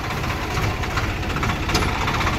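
A Swaraj 744XT tractor engine runs steadily in low gear at around 1500 RPM, a loud, continuous diesel rumble with rough knocking texture and vibration throughout, no talk.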